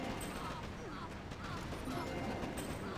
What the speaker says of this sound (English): that machine gun is just going to completely tear me a new one